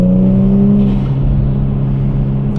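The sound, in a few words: four-door sedan car accelerating while driving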